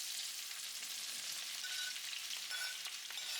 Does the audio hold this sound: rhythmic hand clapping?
no